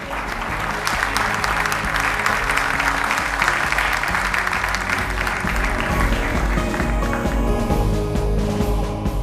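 Sustained audience applause closing a conference panel on energy-sector challenges in Mozambique, dense and steady clapping throughout with some underlying music or low hum, no speech.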